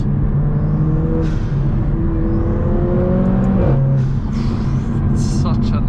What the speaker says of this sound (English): Oh my god, this sound from the turbos.